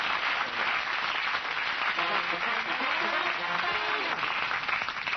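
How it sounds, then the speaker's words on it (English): A television studio audience applauds a comedy show's tribute to Christopher Lee, with dense, sustained clapping throughout and a voice talking over the middle of it. "Let's have a round of applause for Christopher Lee."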